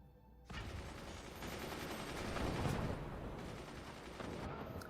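Mortar barrages in the Forts video game, a steady dense rumble of repeated launches and impacts that swells midway and stays loud throughout, with no voices over it.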